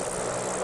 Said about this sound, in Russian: Гул их моторов – это пульс города.